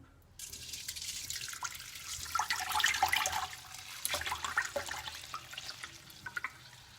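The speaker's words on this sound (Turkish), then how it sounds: "Şimdi kabın dibinde kalanı süzüyorum" Water being strained off soaked raw sesame seeds in a bowl, a steady pouring and trickling stream with splashy bursts that taper into drips.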